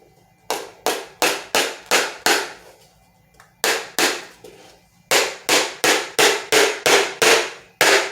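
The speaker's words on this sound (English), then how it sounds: "for your little woodworkers, there are smaller hammers that you can get" Nails hammered into wooden boards with sharp, ringing strikes: a run of five quick blows, a pause, two more, then a steady rapid series of about nine, all close and loud.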